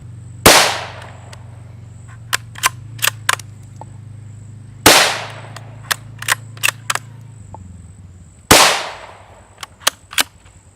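Three sharp .22 Magnum rifle shots with Winchester 40 grain jacketed hollow point rounds crack loudly outdoors, evenly spaced, each followed by a few smaller clicks of the action being worked.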